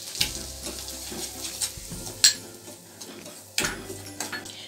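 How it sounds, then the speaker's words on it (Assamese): Semolina frying in hot ghee in a kadai, a soft sizzle under repeated scraping and clattering of a metal spoon against the pan, with sharp clinks, no voices. "ঘিউখিনি গৰম হোৱাত মই চুজিখিনি দি অলপ সময় ভাজি থাকিম।"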